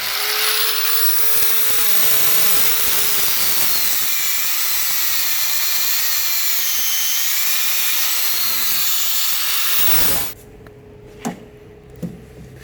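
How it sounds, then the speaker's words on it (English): Power tool cutting a hose for a 1965 Impala SS twin-turbo LS build: a steady, loud whining tool drone with shifting pitch runs for about ten seconds, then stops abruptly, leaving a few faint clicks and knocks. "now we're going to cut it off and get it pushed onto this fitting."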